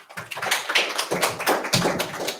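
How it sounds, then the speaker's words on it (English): An audience at a crisis-management talk applauds the speaker, a dense, steady burst of many hands clapping together at close range with no voices over it. "Everyone give Eric a warm round of applause."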